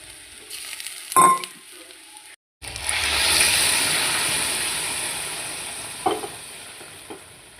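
Chopped tomatoes hit a pan of frying soybean chunks: a brief clatter and pause, then a loud sizzle swells up and slowly settles, with two short spatula knocks near the end.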